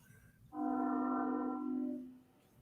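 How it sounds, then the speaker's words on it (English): A distant train horn sounds one long, steady blast in the background, rising abruptly and fading out after about a second and a half. "hear a train in the background somewhere"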